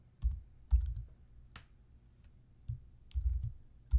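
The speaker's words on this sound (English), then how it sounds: "I'm going to type in resizable" Sparse keystrokes on a computer keyboard, short muffled thumps and clicks in small bursts with pauses between, close and fairly quiet.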